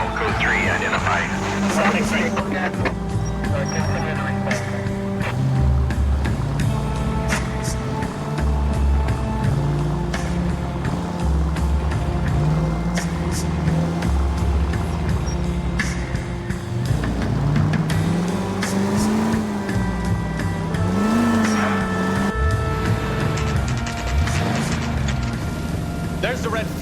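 Cars race through city streets in L.A. Noire, engines droning and revving steadily with rising and falling pitch sweeps, mixed with game music and a voice speaking over the action throughout.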